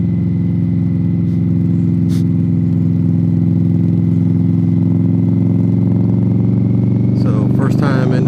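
Indian Scout motorcycle in Wildfire Red pulling hard on a highway, a loud steady engine drone with rich low harmonics sustained throughout while shifting into sixth gear, wind rush constant and a voice cutting in briefly near the end.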